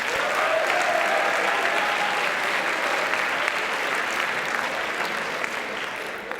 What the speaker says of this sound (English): can we get a round of applause for the campaign managers?